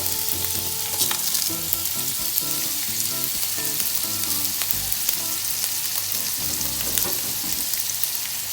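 Crushed ginger and garlic with whole garam masala sauté in hot oil for a Kerala-style chicken biryani, a continuous close sizzle and crackle with scattered pops and faint stirring scrapes throughout.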